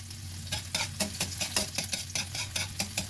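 Food sautéing in a large hot frying pan, steady close sizzle broken by repeated rhythmic scraping and stirring strokes against the pan, with no voices.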